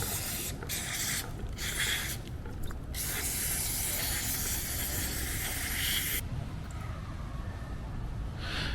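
Aerosol degreaser sprayed onto the chain of a Honda Africa Twin 1100L motorcycle during servicing, heard as several close hissing bursts of spray, some broken by short pauses, then a long continuous blast before it stops.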